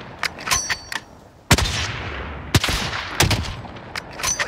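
Bursts of Call of Duty: Warzone gunfire, several sharp cracks spread unevenly across the clip, some close and loud, others lighter, with no talking.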